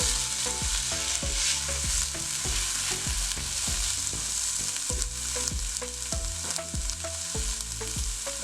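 A seasoning mixture of fresh green onions, parsley and a pinch of clove is stirred in a pan, with steady scraping strokes repeating in a quick rhythm over a constant bright sizzle, close and clear with no voices.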